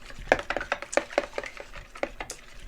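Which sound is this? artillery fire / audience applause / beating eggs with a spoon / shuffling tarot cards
beating eggs with a spoon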